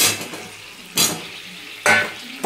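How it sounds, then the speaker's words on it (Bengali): Pieces of pointed gourd and potato drop into hot oil in a pan, producing two sharp sizzling bursts about a second apart over a quieter background hiss. "এবারে এই পটল আলুটা ছেড়ে দিচ্ছি।"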